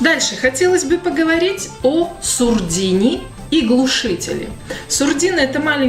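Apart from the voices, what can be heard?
None of the usual background noises is heard.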